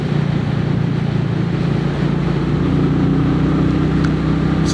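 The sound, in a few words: Royal Enfield 350 motorcycle exhaust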